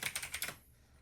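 Rapid keystrokes on a Razer Blackwidow Tournament Edition Chroma V2 mechanical keyboard with ABS keycaps, about five crisp clacks in quick succession, close and quiet, then stopping.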